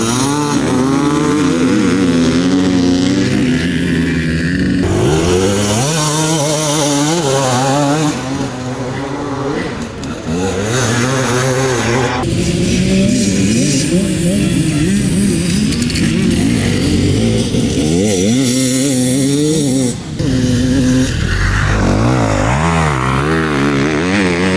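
A GasGas EC300 two-stroke enduro motorcycle fitted with an Athena race piston, ridden hard at a trofeo enduro race, its engine loud and close, revving and dropping continuously with rising and falling pitch throughout.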